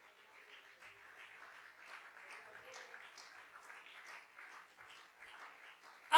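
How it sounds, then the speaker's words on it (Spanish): Church congregation applauding for Jesus during a Spanish-language sermon: faint, steady, distant clapping for about six seconds, with quiet voices mixed in. "Dele un aplauso a Jesús."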